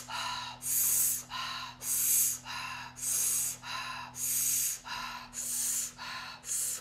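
Deep rhythmic breaths during a meditation exercise, about eight strong, close inhales and exhales in an even cycle, heard alone over a low steady hum.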